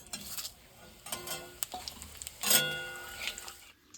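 Cumin seeds sizzle and crackle in a hot pan while a spatula stirs and scrapes against the metal, in scattered bursts with one louder clatter midway.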